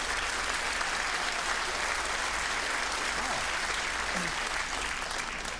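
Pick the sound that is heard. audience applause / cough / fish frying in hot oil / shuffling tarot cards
audience applause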